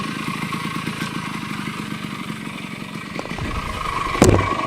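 A 1975 Yamaha DT175 two-stroke motorcycle engine idles close by with a steady putter, then gives a brief louder rev near the end.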